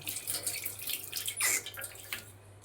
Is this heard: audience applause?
no